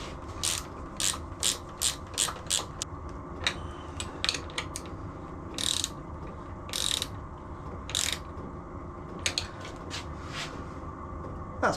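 A ratchet tightening bolts on a DIY enduro motorbike lighting kit install, with quick bursts of sharp clicking strokes close up, some longer runs and pauses between, no speech.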